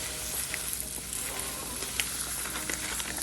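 Rice goes into a hot pan for a Middle Eastern chickpea bowl and sizzles steadily, a close, continuous frying hiss with a few brief pops and crackles.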